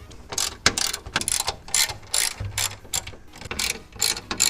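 A ratchet works Torx screws loose on a BMW M240i, close crisp bursts of clicking strokes repeated in a steady back-and-forth rhythm, with no talk.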